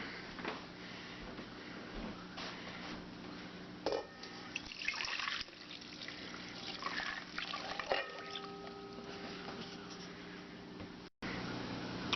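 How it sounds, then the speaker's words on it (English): Warm milk and shortening are poured into a mixing bowl for homemade yeast donuts, a soft liquid trickle and faint drips with light clinks, quiet and close. "now we're going to put the shortening and the milk in the mixing bowl"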